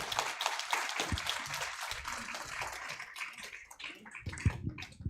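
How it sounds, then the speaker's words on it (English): An audience at a 2021 Amarillo candidate forum applauds the candidates, a quiet, fairly distant patter of clapping that builds and fades unevenly, with a few sharper claps near the end. "Everyone give a round of applause to our Place One candidates."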